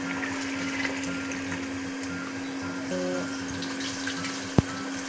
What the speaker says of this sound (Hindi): तो चलो डाल दें इसमें यखनी।